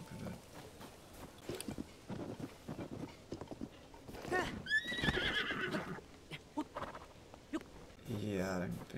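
A horse whinnies with a rising, quavering call amid clip-clopping hooves and ambient game sounds in Zelda: Tears of the Kingdom, ending with a snort or second neigh; the whinny stands out loud and close.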